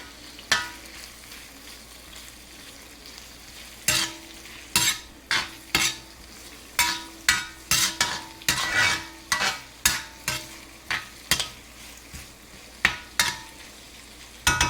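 Peppers stir-frying in a hot pan for a chicken stir fry, close sizzling under a series of sharp, regular scraping and tossing strokes of a utensil against the pan, repeated about every second.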